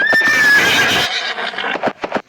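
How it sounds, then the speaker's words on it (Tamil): A loud, close horse whinny in a Roblox obby game, a shrill descending neigh lasting about a second, followed by snorting breaths and scattered clip-clop hoof sounds. "இந்த குதிரை இன்னைக்கு ஸ்லோவாக ஓட மாட்டேங்குது"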